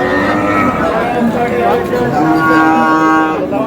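A Sahiwal calf moos loudly and repeatedly over a busy crowd of people talking nearby at a cattle market.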